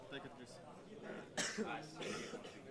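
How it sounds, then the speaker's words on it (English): Esports commentators at a Counter-Strike major match cough and clear their throats, a few short bursts including one sharp cough near the middle, mixed in with their talking. "Why are we all coughing?"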